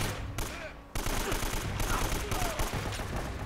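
Dense gunfire from the video game Uncharted: Drake's Fortune, a loud, sustained barrage of overlapping shots with a brief lull near the start and a voice talking faintly underneath.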